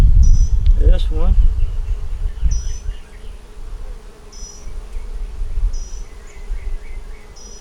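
Honeybees from a caught swarm hum steadily around an open hive box with brood frames, a dense close buzz throughout, and brief sharper insect whines pass by near the start.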